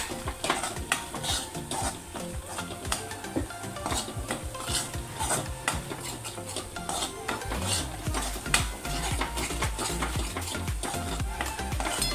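Rajma masala with red chilli powder being stirred and fried in a pan, a busy mix of metal spoon scrapes and clinks over a steady sizzle, close and continuous, with no talking.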